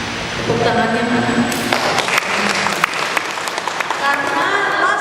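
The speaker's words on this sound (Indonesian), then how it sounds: "Tepuk tangannya mana?" An audience at a Laskar Merah Putih organization gathering breaks into loud, sustained applause, a dense wash of many hands clapping close by for several seconds, with a voice heard briefly over it.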